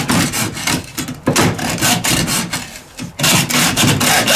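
An aggressive hacksaw blade cuts open a diesel fuel filter in loud, close, rhythmic back-and-forth strokes with two brief pauses between runs.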